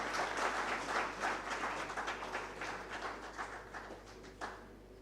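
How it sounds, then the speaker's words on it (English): An audience at an insurance brokers' conference in Uganda applauds, a dense wash of clapping from many people that gradually fades. "Can I request to give Gary another round of applause?"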